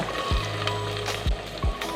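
Finely chopped onions sizzling as they sauté in a frying pan, a constant hiss broken by a few low thumps and scrapes.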